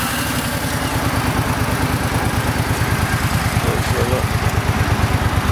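A 2007 Suzuki Boulevard C50 fuel-injected motorcycle on stock pipes idles close by, its steady low engine pulse thumping in an even rhythm throughout at moderate volume.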